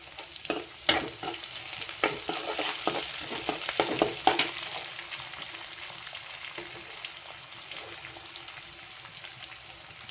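Green chilies fry in a pan with a steady soft sizzle while a utensil stirs them, scraping and clinking irregularly over the first few seconds, then the sizzling continues alone, quiet and close.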